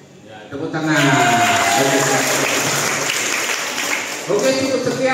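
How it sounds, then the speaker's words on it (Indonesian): Audience applause during a school study tour visit to the North Sumatra State Museum in Medan, loud and sustained for several seconds with cheering voices mixed in. "Tepuk tangan."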